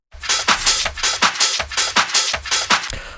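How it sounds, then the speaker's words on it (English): A hardbounce techno drum loop programmed in Ableton pounds out a loud, distorted kick on every beat, with bright, noisy hits layered over a steady, driving pulse and no voices. "Then we've got our drums, which sound like this."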